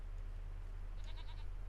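A short burst of goat bleating, three or four quick calls in a row, rises over a constant low droning hum in Farming Simulator 25.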